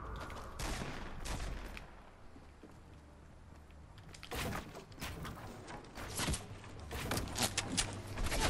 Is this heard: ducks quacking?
no